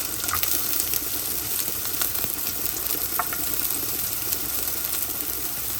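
Onion and garlic sauté in a hot pan, a steady close sizzle with occasional faint stirring clicks and no voices.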